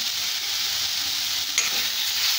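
Tomatoes cook in a pan with turmeric and chili powder while making puffed rice upma, giving a steady close sizzle with a brief stir or scrape partway through and no voices.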